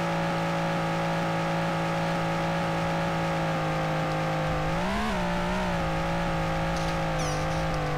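Car driving in the Life of German video game: a steady droning engine hum with a strong sustained tone, briefly rising and wavering in pitch as if shifting or revving, constant and close with no talk.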